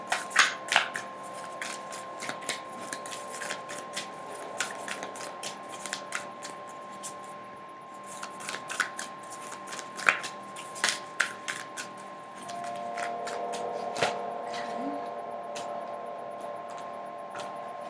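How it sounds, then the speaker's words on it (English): Tarot cards are shuffled by hand at close range, giving crisp repeated riffling and slapping flicks that come in irregular bursts throughout, with a faint steady hum underneath and no talking. "So let's pull some advice cards for you guys."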